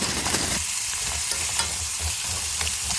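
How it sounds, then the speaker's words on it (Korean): Thin-sliced pork belly, 300 g, frying in cooking oil in a hot pan gives a steady, close, dense sizzle that carries on without a break. "팬에 불을 견디 식용유를 둘러줍니다. 대패삼겹 300g,"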